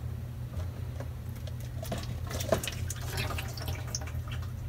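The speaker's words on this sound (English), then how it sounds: "I'm just going to go ahead and pour some water, and I'm going to watch and listen to make sure that it's draining" Water poured into a Samsung refrigerator's drain hose trickles and drips down inside, faint irregular splashes and ticks over a steady low hum from the fridge.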